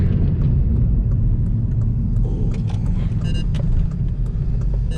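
Stock Honda Civic Si driving and pulling into a parking lot, heard from inside as a steady low engine and road rumble with light clicks and rattles over the top, close and continuous.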